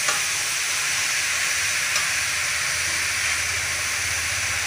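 Steady, dense sizzling hiss as chicken goes into a hot pot with carrots and beans for a chicken stew, continuous and fairly loud throughout with no talking.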